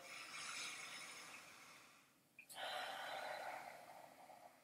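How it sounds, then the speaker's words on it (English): Two long, close breaths drawn in through the nose while smelling an essential oil, separated by a brief pause, soft and airy. "So just taking a nice sniff of that oil."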